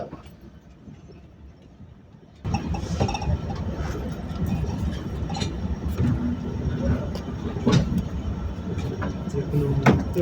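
The Sundarban Express, on a night run from Rajbari to Dhaka, sits halted at the outer signal near Mawa station. A steady, rumbling carriage interior swells suddenly after a quiet start, with faint clinks and murmuring voices.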